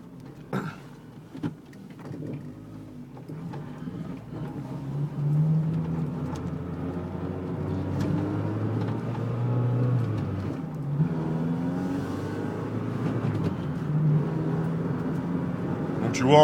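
Opel Corsa with a C20XE engine driving at moderate speed, a steady low engine hum rising and falling with gear changes, heard from inside the car while someone talks over it.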